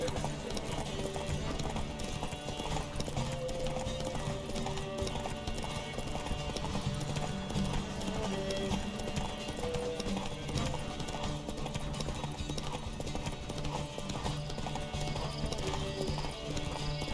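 Steady hoofbeats of a galloping horse in a video game race (The Witcher 3: Wild Hunt) run throughout at a quick, even rhythm, with a busy background of ambient noise.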